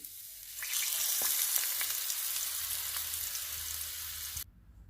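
A spice tempering fries in hot oil for aloo raita, a close, even sizzle that begins abruptly after a quiet start, holds steadily, then cuts off sharply near the end.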